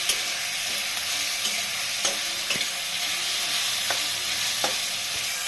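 Spice paste for egg curry fries in a hot pan with a steady, dense sizzle, punctuated by occasional scraping strokes of a spoon stirring it, close up and with no voices.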